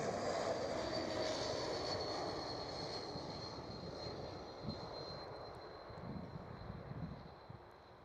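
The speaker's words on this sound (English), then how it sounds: "Swiss A220 is landing" A Swiss Airbus A220 airliner lands at Amsterdam Schiphol, a broad distant jet-engine roar that slowly fades over several seconds, with faint thumps near the end and no voices.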